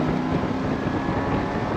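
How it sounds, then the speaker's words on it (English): A Daimler Dart engine accelerates hard in second gear, a dense steady roar with wind rush, loud and close throughout the short stretch. "It pulls pretty hard. It's a very refined engine, so it's very, very flexible."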